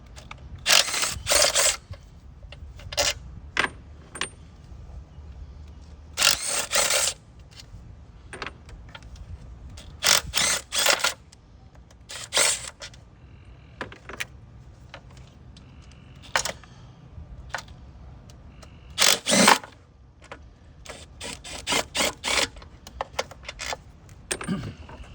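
Intake bolts come out of a Land Rover 5.0 naturally aspirated engine with scattered bursts of ratchet clicking and metallic tool rattles, separated by quiet pauses, close and loud at each burst, without talk.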